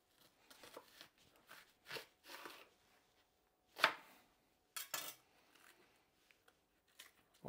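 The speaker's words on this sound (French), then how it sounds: "le poireau je vais le couper" A knife chopping leek, celery and carrots on a cutting board in a kitchen, with a handful of sharp, separate chops and softer slicing strokes, close and fairly quiet, spaced by short pauses.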